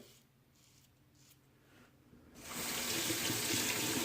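A tap runs steadily at close range while rinsing a Rockwell 6S razor, starting quietly and then gushing louder after a couple of seconds, a broad constant hiss of flowing water.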